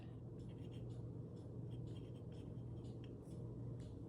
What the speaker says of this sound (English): I'm just gonna write on the outside here